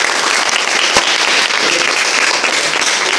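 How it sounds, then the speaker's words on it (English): Loud, dense audience applause for a student speaker at a school event, a continuous crowd of clapping close by with a single sharper clap standing out. "Give him a big clap"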